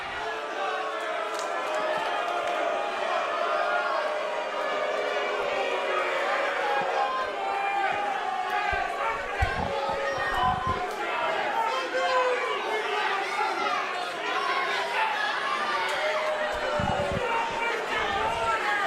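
Excited crowd at a basketball game, a steady loud roar of chatter and shouting that fills the whole stretch, with a few sharp thuds breaking through.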